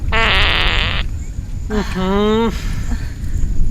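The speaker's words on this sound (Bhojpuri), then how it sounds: "तबे से तू पादत रहलू ह" A person breaks wind on a roadside walk: a long buzzing blast lasting about a second, then after a pause a second rising, wavering squeaky burst, loud and close with no talk over it.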